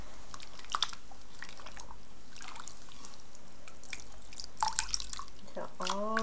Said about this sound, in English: just keep dipping it and submerging it